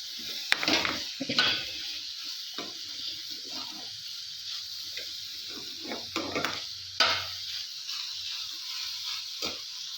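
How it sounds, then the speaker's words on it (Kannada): Beans frying in a pan with turmeric powder, roasted chana dal and urad dal for a beans palya, a low background sizzle broken by sharp stirring scrapes and clacks at irregular intervals. "ನೋಡಿ, ಫ್ರೈ ಮಾಡಬೇಕು"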